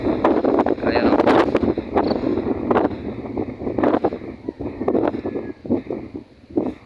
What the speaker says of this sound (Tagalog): Malakas yung hangin dito sa Buri mga ka-adventure, mga ka-partner.